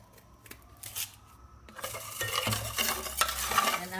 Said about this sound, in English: cook it, and continuously you have to keep on stirring it.